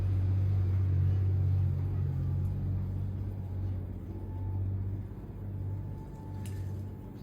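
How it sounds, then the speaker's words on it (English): A potter's wheel carrying a very large load of soft terracotta wild clay for a big flowerpot, giving off a loud, steady low hum and groan that swells and eases gently. "This wheel's beginning to groan a little bit"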